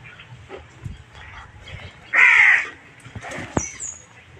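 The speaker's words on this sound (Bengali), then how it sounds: "আর কাকড়া চেঁচাচ্ছে" Crows caw around a rural village home with a pond, bamboo trees and goats on a monsoon afternoon: one loud, close caw burst stands out, with fainter calls and outdoor ambience around it.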